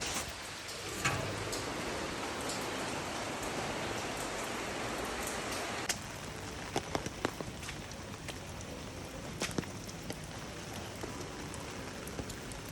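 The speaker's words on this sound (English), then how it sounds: "So we're having a little rainy day" Steady rain falls on a rainy day in Bali, a dense, even hiss with scattered sharper drips and taps standing out from the constant wash.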